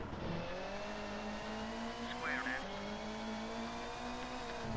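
A rally car engine in the video game Colin McRae Rally on PSX drones steadily at a moderate level during a handbrake turn, the pitch shifting slightly with a brief squeal, while a player talks over it.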